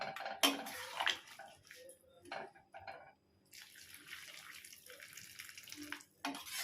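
Hot water poured into a pan of mutton and potato curry, a close splashing gush in two bursts separated by brief quiet, with faint clinks.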